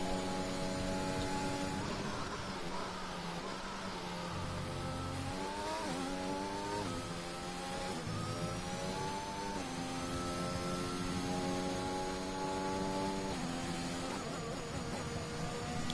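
Racing cars in an esports sim-racing game at the Brazil round: a continuous loud engine drone with rising and falling revs as several cars accelerate and shift, with no talking.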